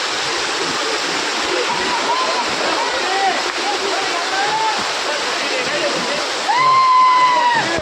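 Kosmal waterfall roars as a steady, loud broadband rush of falling water throughout, with brief voices rising faintly above it near the end.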